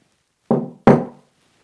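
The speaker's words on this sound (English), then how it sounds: "Can you knock?" Two loud, close knocks sound on wood inside an abandoned house, a quick pair of hollow thuds, each with a short decay, against an otherwise silent room.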